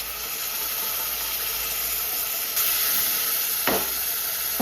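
Tomato purée hits hot oil and masala for mutton pulusu, setting off a steady, loud broadband sizzle that swells midway and ends with a sharper crackle, close to the pan with no voices.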